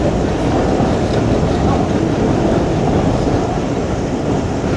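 The Kohat Express rolls along between Rawalpindi and Kohat, a loud, steady rumble of the moving train with constant broadband noise and no break.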